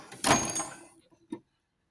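A drawer on a US General tool cart rolls open with a short, close rumbling slide, then a single small knock as it stops. There is no talk.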